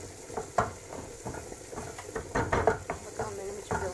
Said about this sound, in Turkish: Soğanlarımızı kavuruyoruz.